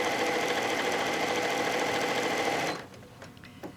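A sewing machine stitches a pillowcase seam in a steady, fast, close whir for under three seconds, then stops abruptly into near quiet.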